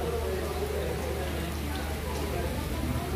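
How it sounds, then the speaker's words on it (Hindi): Heavy, cold rain falls steadily in Peshawar as a dense, continuous hiss under a low rumble, with a person talking over it throughout. "ये देखिए जो बारिश हो रही है ना, इतना ठंडा बारिश हो रहा है"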